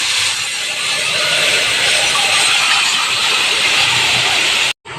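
Pork meat with garlic sizzling loudly in a hot pan for a pork steak dish, a strong continuous frying hiss that holds steady before cutting out abruptly near the end.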